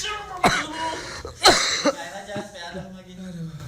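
A cameraman coughs in two or three harsh bursts from smoke at a cracker-making workshop, close to the microphone, with voices talking around the coughs.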